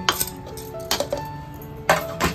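Metal spoon scraping the dough seal from the rim of a chicken biryani pot: three bursts of clinking, grating scrapes spaced across the moment, close and moderately loud with no talk.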